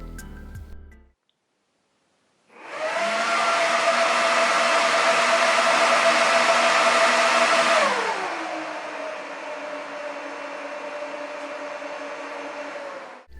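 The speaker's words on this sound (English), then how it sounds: "This particular one uses these modular fans which make a massive racket." Modular cooling fans of a Dell PowerEdge 1950 server roar up at power-on, a loud sustained whooshing whine that holds steady, then drops in pitch and eases to a quieter steady hum, close and alone.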